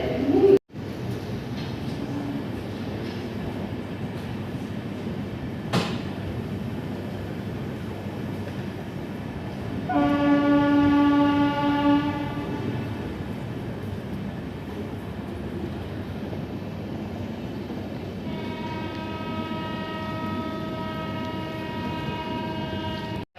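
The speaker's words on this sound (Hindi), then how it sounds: "सो हमारी train Ranchi Howrah intercity express on time खुल चुकी है" Ranchi Howrah Intercity Express running on LHB coaches, a steady low rumble of the moving train with a sharp click early on and two long horn blasts, the first louder, over faint bird calls.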